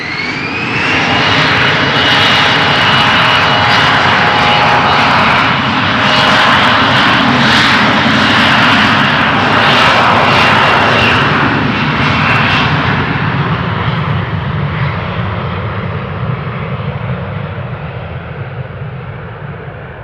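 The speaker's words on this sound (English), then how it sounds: "I think that the Embraer is going to go right away" An Embraer jet takes off at Amsterdam Schiphol, its engine roar loud and broad, building and holding strong before slowly fading into the distance as it climbs away.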